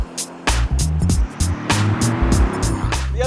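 A Mercedes-AMG GT C Roadster's V8 engine rumbles loud and close from the open convertible, its revs rising and falling with sharp crackles and pops.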